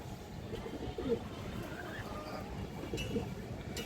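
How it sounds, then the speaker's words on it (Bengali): A large khoragola female pigeon at a pigeon sale gives a couple of soft, low coos, faint and close, over a quiet murmuring background. "বড় সাইজের একটা খরা গলা মাদি কবুতর দর্শক"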